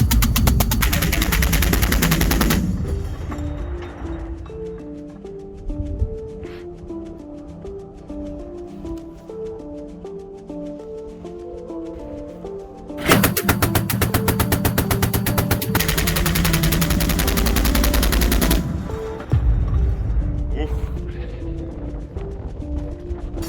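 A 30 mm automatic cannon fires long, loud bursts of rapid shots during combat, with quieter stretches between the bursts filled by a low droning tone.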